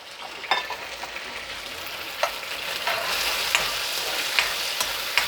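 Garlic and chopped ginger fry in a pan with a steady close sizzle that grows a little fuller after a few seconds, marked by occasional sharp clicks of a utensil.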